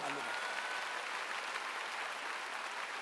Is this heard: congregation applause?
yes